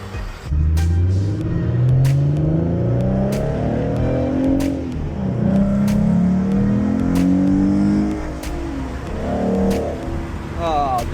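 A 2014 Mustang with the 3.7 V6 pulls hard on a highway, the engine note rising through the gears in repeated sweeps with brief shift dips, loud and close from inside the cabin.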